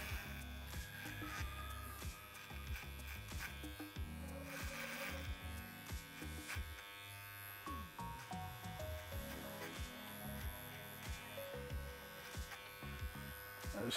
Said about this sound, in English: I'm going to start on the sides with the fade by using a number 2, a 6mm clipper guard.